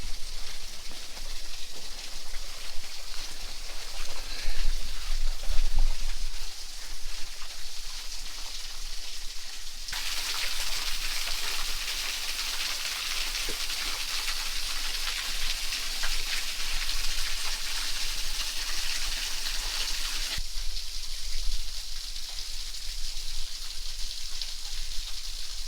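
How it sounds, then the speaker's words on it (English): Water dripping and pattering all around in damp, wet woods at Torreya State Park in Florida, a steady close hiss of drops on leaves and ground that grows louder in the middle stretch, with no talking. "I think it's interesting how it just drips all over, not just in that one spot."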